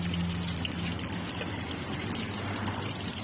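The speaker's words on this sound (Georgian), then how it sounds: "წყალს მასხავ." Water splashes and pours in a continuous, fairly quiet wash near a fish tank or pond, with no voices.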